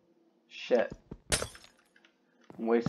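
Glass blocks smashing in a Minecraft-style block game, a few sharp brittle cracks scattered across a couple of seconds, clear and close.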